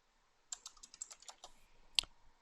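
Quiet, close typing on a computer keyboard, an irregular patter of light key clicks ending in one sharper keystroke.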